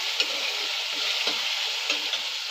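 Chopped tomato stirred and sautéed in hot oil with golden-browned onion in a pan for toor dal, a steady close sizzle broken by a few scraping stirs of the spoon, no voices.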